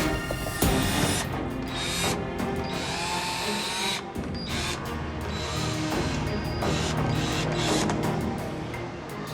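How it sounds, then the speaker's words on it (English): A power drill bores into the base of a bag during a border security inspection, a loud continuous whirring with brief pauses and shifts in pitch, close by. "They'll drill the base of the bag to find out what, if anything, is inside."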